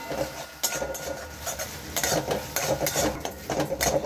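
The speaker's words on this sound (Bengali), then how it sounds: "খুব ভালো করে মশলাটা একটু ভেজে নিই" Turmeric and Kashmiri chilli powder being fried in a pan for ghugni, with steady scraping and stirring clatter of a utensil against the pan and a soft sizzle underneath, close and continuous.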